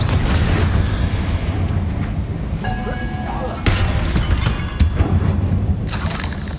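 Confringo fire spell in the Hogwarts Legacy video game, a series of booming, crackling blasts and shattering impacts amid loud combat noise.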